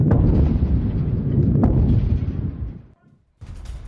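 Missile strikes on a steel plant in Isfahan give a long, loud, rumbling roar that dies out, followed after a brief silence by another burst of low blast noise.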